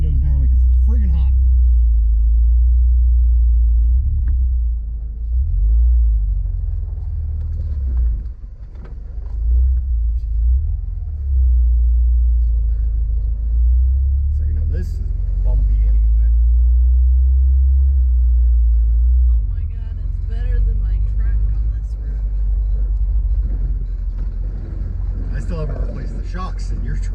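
Steady low road rumble inside a lowered 1997 Ford Ranger pickup cruising with the windows down, wind and engine drone filling the cab throughout, with someone talking loudly over it.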